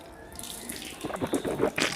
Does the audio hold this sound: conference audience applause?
no